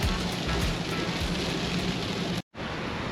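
Steady rain drumming on a car while travelling along a highway in Malaysia, a dense continuous hiss with low road rumble beneath, cutting out abruptly for a moment near the end before resuming.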